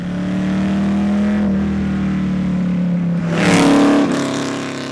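A Shelby-powered Sunbeam Tiger's V8 engine, about 273 horsepower, rumbles steadily nearby, then revs up with a loud, rising, thunderous growl before settling back down.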